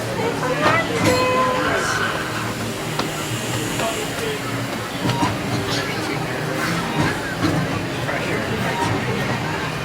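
Disneyland Railroad train ride ambience: a rumbling, hissing rail car with clattering and squeaks, while people talk nearby over the steady noise.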